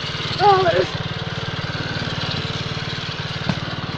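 Chinese-made engine fitted to a Honda Monkey motorbike runs at a steady idle, a continuous low putter with a brief louder burst early on, close by and alone.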